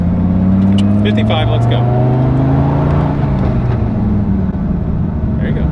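A manual-transmission Dodge Viper engine accelerates with a rising, droning growl that climbs steadily in pitch, heard up close from inside the car while people talk over it.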